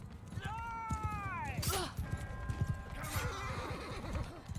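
A horse in the video game Mount & Blade II: Bannerlord whinnies with a falling, quavering cry, followed by quick clip-clopping hooves and a second shorter neigh.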